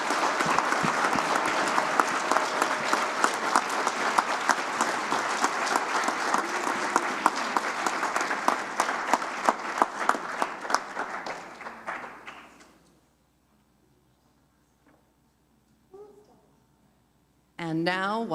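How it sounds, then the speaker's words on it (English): A congregation applauds during a worship service, a full round of clapping that gradually thins and fades out near the end, followed by quiet and then a voice speaking. "Can we give them a huge round of applause?"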